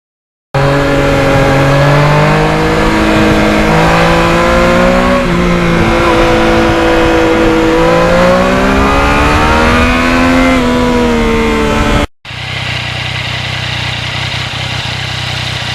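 A Yamaha MT-09 motorcycle roars loudly and close while being ridden, its engine note climbing and falling through several rev sweeps in a steady stretch, then cutting abruptly to a lower, rougher drone.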